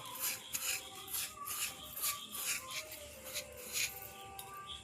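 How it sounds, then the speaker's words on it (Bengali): Soaked moong dal being mixed by hand with Kashmiri chilli powder for crisp fried dal makes a soft, steady rubbing and squelching, with brief gritty scrapes repeating close by and no voices. "দিয়ে এবার এটাকে ভালো করে মাখিয়ে নেব"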